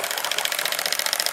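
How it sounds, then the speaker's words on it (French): A small 2 cc model steam engine drives a 65 mm propeller turning in a tank of water, part of a steam plant for a launch. It makes a steady, rapid, hissing pulse throughout, close and continuous. "ce petit moteur de 2 cm3 entraîne allègrement une hélice de 65 mm de diamètre"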